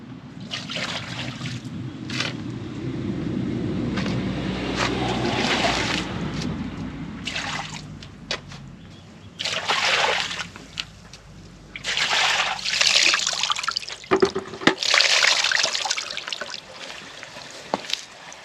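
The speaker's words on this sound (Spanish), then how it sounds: "echar bien un cubo de agua, a ver cómo se comporta" Water from a bucket poured into a rain gutter being levelled on a house, a long continuous splash and trickle that runs for several seconds, then breaks into intermittent gushes and drips, fairly close and loud with no talk.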